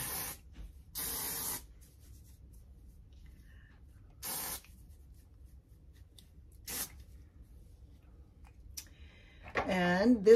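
Several short bursts of root booster hair spray hiss out, two close together at the start and more spaced after, each a sharp aerosol spray near the mic in a quiet room, with a brief voice at the end.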